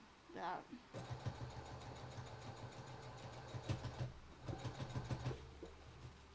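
A sewing machine stitching fabric onto bias tape in two runs of fast, steady mechanical whirring and needle clatter, with a brief pause between them. A person talks faintly nearby.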